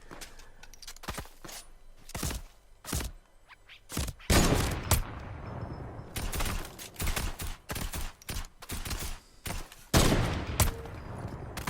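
Repeated bursts of gunfire in a video game, loud and irregular with clustered volleys and brief pauses, heard alone without talk.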